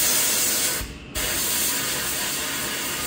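Compressed air from an air compressor hisses loudly and continuously while a diesel truck is worked on, broken by a brief drop near the one-second mark, then resuming at full strength.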